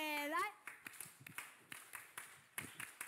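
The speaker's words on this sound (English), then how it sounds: "Let's give them our applause of love." Scattered hand claps from a small group during an online study group broadcast, sparse and fairly faint, following a brief voice at the start.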